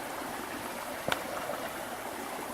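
A creek at a campsite flows over pea gravel near a diversion channel, a steady close rushing trickle broken by one brief sharp splash or knock.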